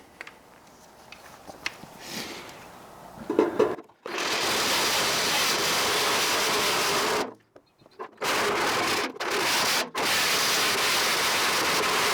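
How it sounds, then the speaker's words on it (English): A power drill with a step drill bit grinds loudly, enlarging a hole from 25 to 35 mm during a GT40 kit car fuel tank install, in long bursts, stopping briefly several times before resuming, with quieter handling noise at the start. "So I've got my step drill bit and just marked it with some tape."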